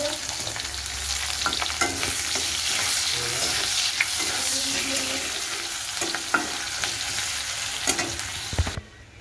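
Onions fry in hot oil with a steady, close sizzle, broken by a few stirring scrapes and a clack just before it cuts off.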